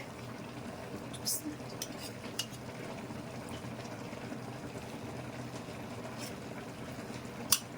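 Spoon clinking and scraping against a pan while cauliflower curry is mixed after two spoonfuls of yogurt go in, a few sharp metallic taps over a low, steady kitchen background with no talk.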